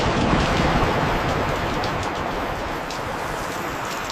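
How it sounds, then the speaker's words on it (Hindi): Rain falls in a steady, dense hiss that fills the whole stretch and stays evenly loud, with no talking over it. "अरे 1 सेकंड, बारिश आ रही है"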